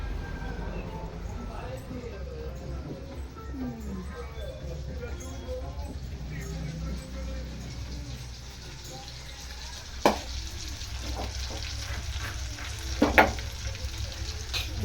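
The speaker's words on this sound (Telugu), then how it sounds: "ఇప్పుడు ఆకుకూర అయితే పెట్టేస్తున్నాను" Chopped leafy greens (chirukura, for a chutney) go into a hot pan and fry with a steady, close sizzle, broken by a few sharp utensil knocks near the end.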